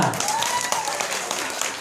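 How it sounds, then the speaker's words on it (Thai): An audience at a family day event bursts into applause, a short, dense round of clapping mixed with crowd voices and cheering. "ใครคิดว่าฉันสวยแล้วก็น่ารักมากขอเสียงปรบมือหน่อยค่ะ"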